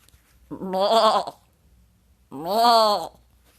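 A goat bleats twice, close and loud, each call a wavering, nasal cry of under a second. The two calls are separated by a short silence, with no other sound around them.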